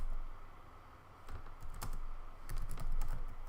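Rapid keystrokes on a computer keyboard while writing an import_playbook line in a playbook file, arriving in quick irregular bursts that grow denser toward the end, close and clear over a low room hum.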